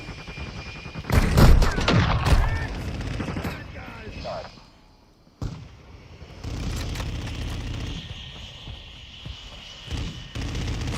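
Bursts of automatic gunfire and explosive booms from a Call of Duty: Modern Warfare II multiplayer match with an LA-B 330 'Shadow Lance', loudest early, then a brief lull and renewed sustained firing with game announcer voice lines.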